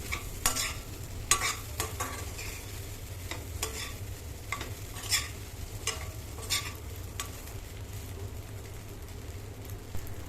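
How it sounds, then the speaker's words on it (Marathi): Cut pieces of idli are stir-fried in a pan, giving a steady low sizzle with repeated sharp scraping and clacking strokes of a spatula, close and moderately loud, with no voices. "कट केलेले इडलीचे पीसेस ॲड करायचे आणि एक पाच मिनटासाठी ते छान परतवून घ्यायचे"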